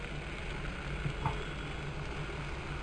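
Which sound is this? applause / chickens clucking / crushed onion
crushed onion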